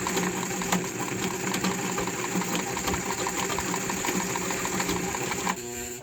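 A Singer Heavy Duty model 237 sewing machine running steadily as it sews stitch samples, a loud, close, continuous whirring rattle with rapid rhythmic needle clatter that winds down and stops at the very end.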